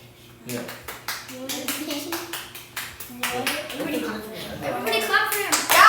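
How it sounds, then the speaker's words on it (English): Children in a classroom clap in scattered, uneven bursts amid lively chatter and shouting, the noise building louder toward the end. "Everybody clap for him"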